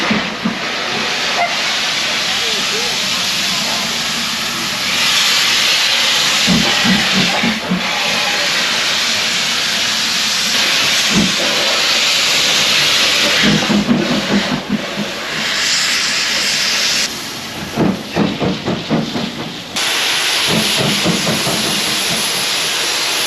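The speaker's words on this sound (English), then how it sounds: "then we'll jump on the steam train and get down to Goathland" Steam train on the North York Moors line running from Grosmont to Goathland, giving a loud, continuous hiss of escaping steam that fills the whole stretch, with rhythmic chuffing bursts and mechanical clatter rising and falling underneath.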